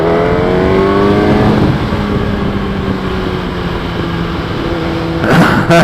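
A 2012 Kawasaki Ninja ZX10R sport motorcycle with 57,000 km pulls hard in third gear from about 80 km/h, its engine note climbing steadily in a loud, close whine before a brief roar near the end.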